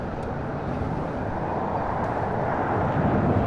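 An airliner taking off at LAX, a broad, loud roaring rumble of jet engines that holds steady and swells slightly toward the end, no talking.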